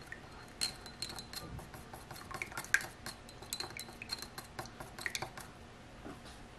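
Wax being stirred with a chopstick in a small container while making candles: light, repeated clinks and scrapes, fairly quiet and close, with no talk.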